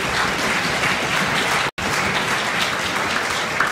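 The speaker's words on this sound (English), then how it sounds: "So we can give him a huge round of applause coming out for second." An audience at a middle and high school concert bursts into full, steady applause, dense clapping from a large crowd throughout with a momentary cut partway and no talking.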